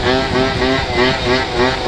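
A 50cc scooter engine held up in a wheelie, droning close and loud with a buzzy, steady tone that swells and eases in gentle pulses of throttle.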